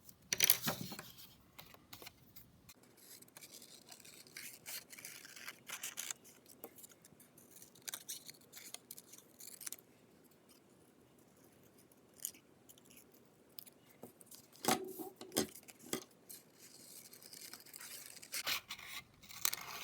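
Scissors cut out paper shapes for a Notan-style art piece in short, quiet snips and scrapes that come and go in bursts over a faint background hum.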